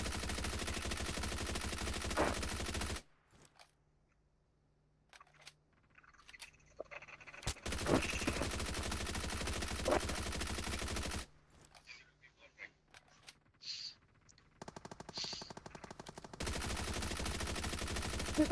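Rapid gunfire from the BGMI battle royale video game, bursts of dense automatic shots loud in the first seconds and again near the end, with quieter gaps between and chatter under the action.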